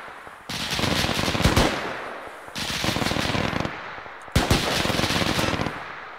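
Three sustained bursts of automatic machine gun fire in the Arma 3 combat simulation, each lasting over a second with short gaps between them. The shots are loud and rapid, with no voices.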